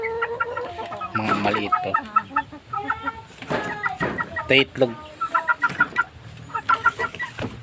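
Chickens cluck in short, repeated bursts close by, with people talking over and between the calls.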